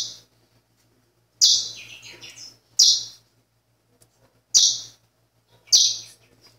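Pichochó finch chicks, about six or seven days old, give four sharp high chirps while being banded, each a bright close burst separated by quiet gaps, with no talking.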